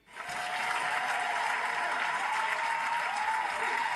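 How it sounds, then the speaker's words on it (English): A round of applause swells in quickly and holds as loud, dense, continuous clapping from a crowd, steady to the end with no voices standing out. "Round of applause."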